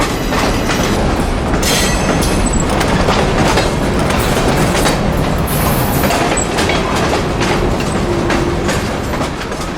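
A724 Bow Line local freight train rolling past up close, loud and continuous with rhythmic clickety-clack of wheels over rail joints and occasional brief metallic squeals.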